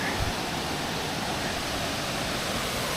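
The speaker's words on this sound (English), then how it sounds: "Here's the top of the falls." Steady, dense rushing water from Elk River Falls, North Carolina, heard from the top of the falls, fills the air with a constant roar, close and unbroken.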